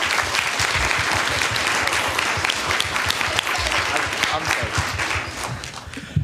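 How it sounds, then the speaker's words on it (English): Enthusiastic audience applause fills a Board of Education meeting with student leaders: dense, steady clapping from a crowd that holds loud for several seconds, then thins slightly before a final burst, with faint voices mixed in. "can we give one more round of applause for all the students here today"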